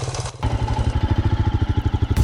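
A motorcycle engine idles close by with a steady, throbbing low putter, revving briefly at the start.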